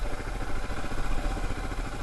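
Motorcycle engine idling along in second gear on a New Mexico stretch of the Great Divide route, a steady close rumble with continuous low chugging throughout, no talking.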